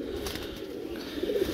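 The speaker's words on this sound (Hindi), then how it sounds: "ये देखें कबूतर क्या ही कबूतर है दोस्तों" A pigeon at a breeder's sale coos softly nearby, with low murmuring calls over a steady background hum.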